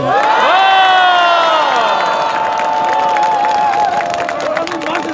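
Crowd at an outdoor political rally cheering and shouting, a loud swell of voices with whoops and rising calls that fades into scattered clapping and chatter.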